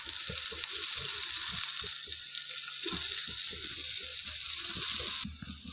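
Aloo tikki frying in lightly hot oil over a low flame, a soft continuous sizzle with small irregular popping and bubbling bursts, close and steady, fading slightly near the end.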